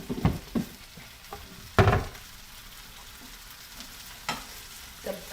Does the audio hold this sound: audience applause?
no